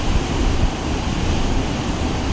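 Rain falls steadily at Tanah Lot on the Bali coast, a constant broadband hiss over a low rumble, close and loud, with no talking.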